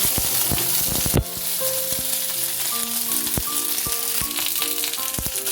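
Whole okra pieces dropped into hot oil in a pan, a dense, close sizzle with scattered sharp crackles and occasional rattling, steady throughout.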